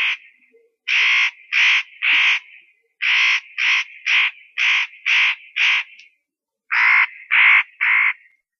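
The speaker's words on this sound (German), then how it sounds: "Zwischendrin hat man den Schrei von einem Häher gehört." Harsh, raspy Eurasian jay screeches in quick bursts of two to four, repeated several times with short gaps, loud and close with nothing else around.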